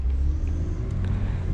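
A 2008 BMW 328xi E90 sedan with 230-horsepower all-wheel drive gives a steady, deep engine rumble with road noise, continuous and fairly loud throughout, with no voices.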